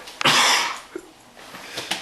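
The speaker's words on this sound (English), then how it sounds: "That's me coughing." A person coughs once, sharp and close, with a broad harsh burst trailing off, followed by a smaller catch and another brief cough near the end.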